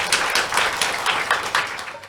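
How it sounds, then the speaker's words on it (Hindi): An audience at a Mahashivratri puja gathering breaks into loud applause, with a dense patter of claps pulsing in uneven bursts throughout. "आपके लिए भी जोरदार तालियां हो जाएं।"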